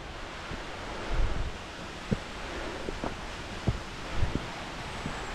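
Steady broadband rush of water at Los Huenchos waterfall in Calvillo, Aguascalientes, a continuous roar with a few soft knocks and bumps over it, no talking.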